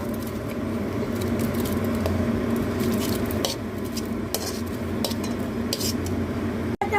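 Rice poured into a pot of simmering milk and water on a gas stove, giving soft scraping and clinking pot sounds over a steady bubbling hiss, with a sharp click near the end.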